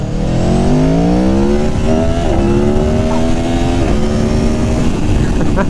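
A 2019 Aprilia Tuono Factory motorcycle engine drones loud and close throughout, its pitch climbing steadily as it accelerates through the revs without a break.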